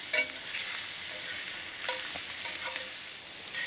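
Chicken wings searing in a hot pan get stirred, a steady broadband sizzle broken by a few scraping stir strokes, close and moderately loud with no talking.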